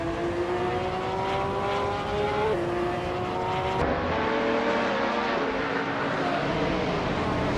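Engine of a 2014 BMW 235 in the iRacing sim, holding a sustained high-revving whine with a gear-shift drop near the middle, then a rougher, lower roar with other cars faintly in the mix.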